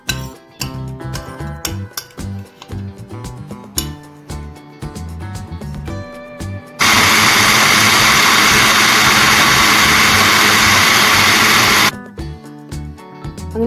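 A mixer grinder whirs loudly and steadily for about five seconds as it grinds coconut and spices with a little water, preceded and followed by scattered clinks and knocks of the jar and lid.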